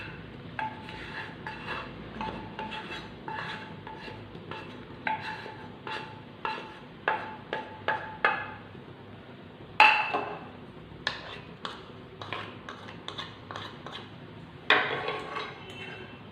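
A fork or spoon stirs a beaten egg and potato mixture in a bowl, tapping and scraping against the dish in quick, irregular clinks with short pauses between bursts of mixing.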